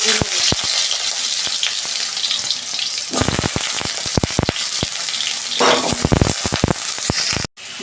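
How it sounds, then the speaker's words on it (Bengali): Eggplant and potatoes fry together in oil in a kadai, giving a steady, loud sizzle broken by sharp clacks and scrapes from stirring, with a brief pause near the end. "বেগুন আলু আমি একসঙ্গে ভেজে নেব।"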